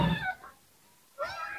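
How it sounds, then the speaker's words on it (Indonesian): A cat under treatment for a fungal skin infection meows twice, close and clear: a drawn-out mew, a short pause, then a second rising meow. "Tuh, udah meong-meong."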